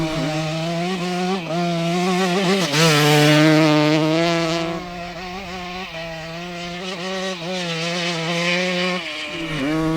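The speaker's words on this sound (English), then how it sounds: "I'm getting used to riding a bike like this." A 50-year-old iconic dirt bike revving as it is ridden, a loud close two-stroke-style engine drone with rising and falling pitch as the throttle opens and eases, continuous throughout.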